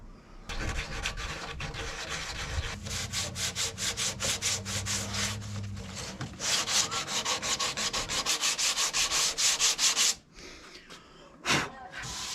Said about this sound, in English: I'm going to sand that back a little bit more and expose that.